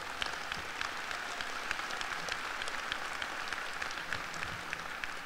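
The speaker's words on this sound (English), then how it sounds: "Round of applause for our statement." Steady applause from a large crowd at a university convocation, dense continuous clapping sustained evenly for several seconds with no voices.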